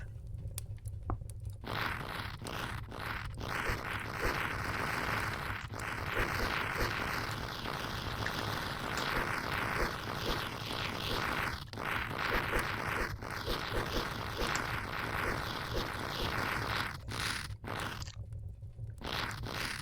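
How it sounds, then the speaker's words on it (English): Rope climbing in the Gorilla Tag VR game, a steady scraping, crunchy rasp like rubbing or zipping that runs continuously and loud for most of the stretch, with brief breaks near the start and end. "The annoying sound of climbing up a rope."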